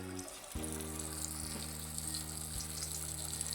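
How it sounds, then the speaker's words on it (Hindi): Thai fish pieces fry in oil on low heat until crisp, making a steady, close sizzle that starts with a sharp burst as the fish goes in and keeps hissing evenly. "अब फ्राई करना हमने शुरू कर दिया हुआ, ऐसे करके इसको आपने हल्की आंच पे फ्राई करना और इसको कड़क करना हुआ।"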